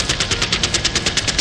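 Machine gun sound effect from a Batman motion comic: a rapid, even burst of about a dozen loud shots in quick succession, close and alone without talk.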